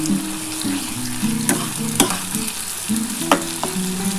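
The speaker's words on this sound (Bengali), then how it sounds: "এবার কিন্তু আমি পেঁয়াজটা দিয়ে দেবো। আমি পেঁয়াজের সাথে কটা কাঁচা লঙ্কাও দিয়ে দিচ্ছি।" Onion and green chillies frying in a pan give a steady close sizzle, broken by sharp clicks of a spatula stirring against the metal, with a faint background hum and no talking.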